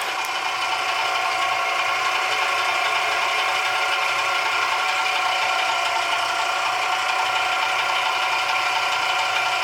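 A Hobart VCM-40 cutter mixer motor spinning its blade at high speed, a loud, steady, close mechanical whine and hum with a slight rattle, unbroken throughout and without speech.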